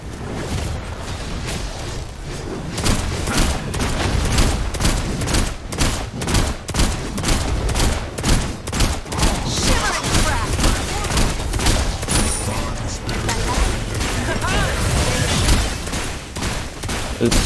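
Rapid gunfire bursts fill a match in the video game Paragon: The Overprime, with dense, loud repeated shots throughout and a voice talking over them at times.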